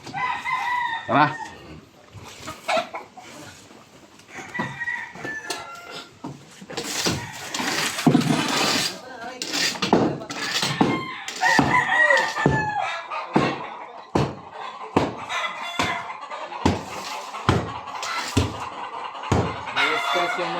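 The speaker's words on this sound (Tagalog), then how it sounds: "May stress yung manok, mga panlaban pala yan eh sir." Fighting roosters, agitated and stressed, crow and cluck repeatedly, loud and close, with sharp bursts and scattered calls. People talk nearby.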